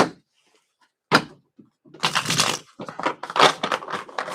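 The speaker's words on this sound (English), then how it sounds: "No, more shuffles. Way more shuffles." Tarot cards being shuffled come through as a few quick riffling bursts, close and crisp, separated by short pauses.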